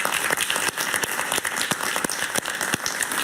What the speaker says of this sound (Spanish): Y este fue el gran Álvaro Uribe, por quien pido un aplauso.